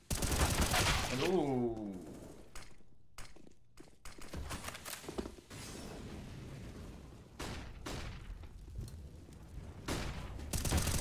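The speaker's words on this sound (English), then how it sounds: "As more shots ring through" Gunfire from a Counter-Strike esports match between Bad News Eagles and forZe in the ESL Challenger League: bursts of rapid shots and booms, loud and close, with short pauses, under an excited commentator's voice.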